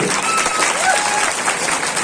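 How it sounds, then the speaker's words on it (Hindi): Crowd applause at an outdoor gathering for the installation of a statue of Rana Punja Bhil in Bamnia, with dense, steady clapping filling the whole stretch and no pauses. "आप उनका एक बार इनके साहस के लिए ताली बजा करके"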